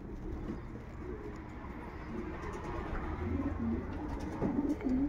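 Long-distance racing pigeons coo in a loft, low throaty murmurs rising and falling in short phrases near the end, over a steady rumbling background.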